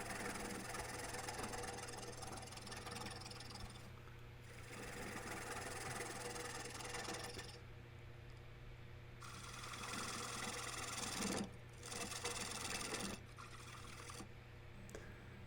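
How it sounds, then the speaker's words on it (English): Wood lathe turning a hickory salad bowl while a gouge reduces the diameter of the nub: a steady motor hum with shifting bursts of cutting noise that come and go, with no talk. "Now I'm going to take that nub and further reduce it in diameter."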